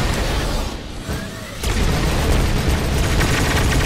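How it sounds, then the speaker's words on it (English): Missiles explode against a huge dreadnought battleship in the War Tech Fighters game, a dense continuous barrage of loud booming blasts with a brief dip before the rumble swells again. "Put some missiles on that."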